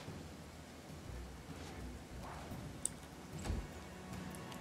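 Rain in the video game Pathfinder: Kingmaker, a faint, steady hiss of rainfall with a low rumble underneath and an occasional small click.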